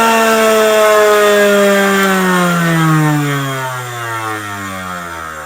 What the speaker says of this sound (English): this fiber wheel works so well. I found that it was really good at sharpening